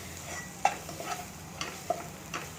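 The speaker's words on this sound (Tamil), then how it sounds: "இந்த எண்ணெயிலேயே இந்த மசாலா வந்து வதங்கும்." Masala sizzles quietly in oil in a pan while a spoon stirs it, with soft scraping taps recurring every half second or so over a faint frying hiss.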